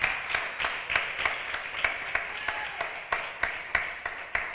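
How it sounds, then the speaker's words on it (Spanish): Members of an evangelical church congregation clap together during a sermon in a soft, slightly rhythmic patter. It sounds moderately distant and keeps going steadily, with no speech over it. "Da un bonito aplauso al Señor Jesucristo."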